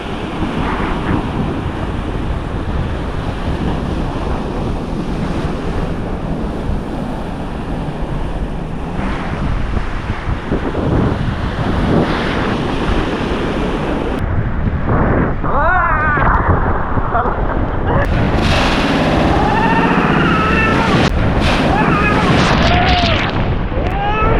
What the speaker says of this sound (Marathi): कधी पण एकदाच मोठी लाट येईल वरती पाणी आपटतं